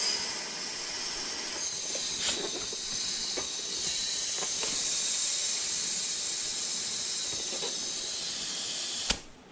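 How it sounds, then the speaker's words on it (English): Compressed air is blown into the Presta valve of a cheap CST Rock Hawk mountain bike tire, making a continuous close hiss that holds steady and then ends with a sharp click. "I'm gonna hit this with some compressed air"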